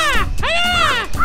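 Harsh raptor-like screech from an eagle in the game Cow Catcher Simulator: two loud, close, rasping calls with a brief gap between them and a short third cry at the end, no speech.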